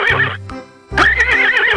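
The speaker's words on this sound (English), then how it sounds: "5. Horse." A horse gives a loud, close whinny in two bursts split by a short pause, the second longer and wavering, with no talking around it.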